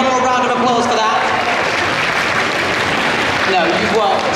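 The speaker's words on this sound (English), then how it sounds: "Can we have a little round of applause for that?" Audience applause at a horse show in London, a steady wash of clapping throughout with voices talking over it in places.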